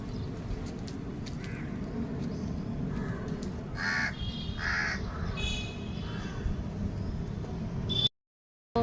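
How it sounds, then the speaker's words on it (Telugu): Crow cawing in a rooftop garden, a few distinct harsh caws at moderate distance over a steady background hum. The sound cuts off abruptly near the end. "ఏం కావాలా కాకి నీకు?"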